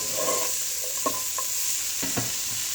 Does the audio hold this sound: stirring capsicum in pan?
yes